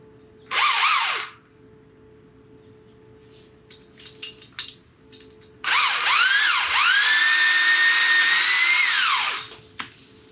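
A DEKOPRO 8 amp 10-inch electric pole chainsaw cuts through a tree limb, with a short loud whine of the motor, a quiet pause with small clicks, then a sustained, steady, close cutting roar that winds down.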